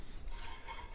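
Steel file rasping burrs and nicks from the flat surfaces of a Ferrari 456 cylinder head, a steady close, continuous scraping stroke filling the whole second.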